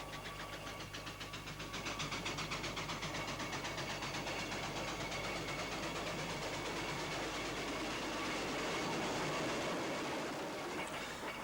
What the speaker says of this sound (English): It's always nice to see traction engines on the road.